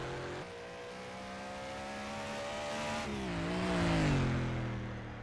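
Race car in rFactor 2 sweeps past during a Targa Sicilia special event, its high engine whine building then dropping in pitch as it passes close, with no talk.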